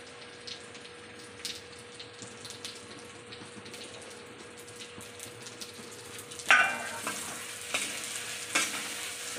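Pieces of pointed gourd (potol) fry in spiced oil in a pan, a soft, continuous sizzle under a faint steady hum, with louder clattering stirs toward the end.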